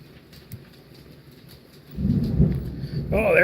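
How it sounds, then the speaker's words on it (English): Thunder rumbles in during a severe thunderstorm with heavy rain, rising to a loud, deep boom in the last second and a half after quieter rainfall at the start. "there's a big old thunder boomer"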